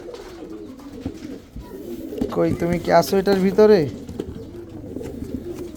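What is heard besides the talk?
pigeons cooing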